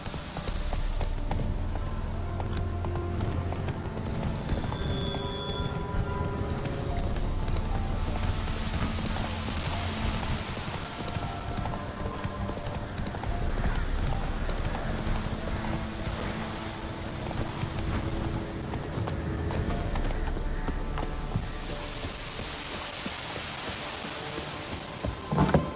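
Horse galloping in the Witcher 3 video game, a steady run of hoofbeats at a quick rhythm over a background of wind and game ambience, continuous and close.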